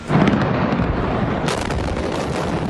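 Aftermath of the massive Beirut explosion, heard as a loud, dense roaring rumble with a sharp surge partway through, sustained and continuous without talk.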